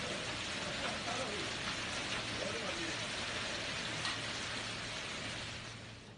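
Heavy rain with hail pours down in Delhi NCR, a dense, continuous hiss of drops striking surfaces that stays loud and even throughout, easing slightly at the very end.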